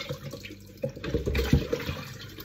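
Tap water runs and splashes in a sink while potatoes are washed, a short close burst of gurgling and spattering that swells briefly in the middle.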